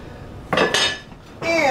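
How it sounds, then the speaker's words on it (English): Dutch oven handled on a kitchen stove: a couple of sharp metallic clanks and scrapes of heavy cookware, close and brief, separated by short quiet gaps. "Let's get this Dutch oven going."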